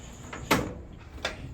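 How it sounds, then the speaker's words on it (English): The front panel of a Samsung dryer is eased forward during a drum roller replacement, giving a couple of short plastic-and-metal knocks and scrapes over a quiet room hum, close by. "when you pull this panel forward, you got to make sure you don't pull it hard"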